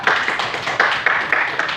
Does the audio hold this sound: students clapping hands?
yes